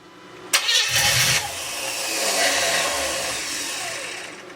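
A 350 SS car engine, on its first start, cranks briefly, catches and roars to life, then settles into a loud, rough running rumble.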